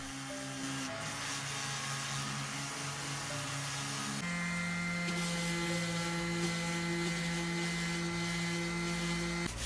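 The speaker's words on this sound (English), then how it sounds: "I'm sanding it down so that it reveals its natural color." Steady power-sander drone working over dusty, aged wood for a homemade bathroom tray, running continuously with a pitch shift partway through and no talking.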